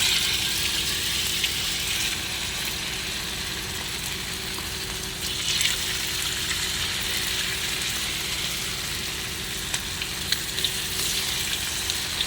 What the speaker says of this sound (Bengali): এখন আমি এটাকে তেলে ভাজবো কড়াইতে।